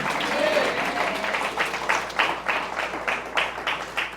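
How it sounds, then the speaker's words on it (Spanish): A Pentecostal church congregation applauds during a Spanish-language sermon, with steady, fairly rhythmic clapping bursts that fill the room and some voices mixed in. "¿Cuántos le dan un aplauso a Jesús en esta preciosa hora?"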